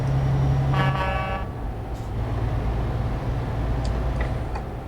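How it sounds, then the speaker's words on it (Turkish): A truck's horn blares for about a second inside a tunnel, loud over a constant engine and road drone, followed by fainter ticking and a reverberant wash. "Korna yankı yapıyor ya"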